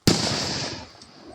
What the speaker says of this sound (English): we're gonna do fireworks here in a minute, but I just seen a huge firework over here.